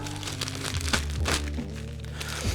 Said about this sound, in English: You'll take that little plastic bag,